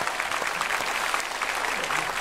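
Sustained applause from a church congregation at a Sunday service, a steady wash of many hands clapping throughout.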